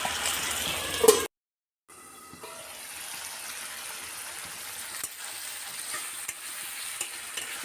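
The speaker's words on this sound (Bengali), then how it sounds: "বেগুনটা আর আলুটা খুব সুন্দরভাবে কষানো হচ্ছে" Eggplant and potato sauté in hot oil in a pan, giving a close, steady sizzle with scraping stirs after a brief silent break near the start.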